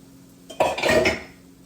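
A clattering sizzle as chopped potatoes are tossed into a pan, a burst of metallic scraping and rustle lasting under a second, with no voices.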